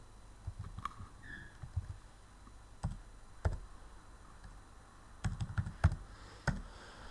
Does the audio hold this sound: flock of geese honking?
no